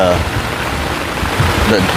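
Heavy rain pours steadily onto a tent pitched at a state park campsite, water running beneath the floor, a dense close hiss that fills the whole moment without pause.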